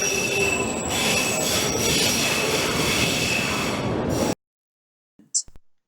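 A London Underground 1996 stock train at Charing Cross screeches loudly with squealing wheels and rumbling rail noise for about four seconds, then cuts to near silence with a couple of faint clicks.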